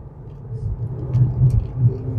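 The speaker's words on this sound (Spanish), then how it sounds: "Me encanta cómo suena el cambio cuando le das a la marcha" Low engine rumble from a Volkswagen Golf GTI Mk5 Pirelli Edition being driven hard, swelling in uneven surges that may mark gear changes, heard from inside the car with no talking.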